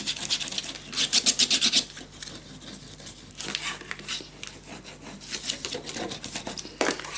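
A tool rubs and rasps as it burnishes paper down on a handmade scrapbook suitcase mini album, in several bursts of scratchy friction with brief pauses, close up and without talk.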